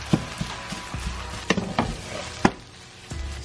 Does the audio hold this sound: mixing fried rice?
yes